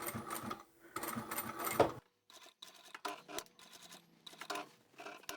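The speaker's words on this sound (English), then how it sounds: "if you have a walking foot, put that on before you start sewing." A sewing machine fitted with a walking foot stitches a quilted Christmas table runner, running in short bursts with pauses between them, close and fairly quiet, and no one talks.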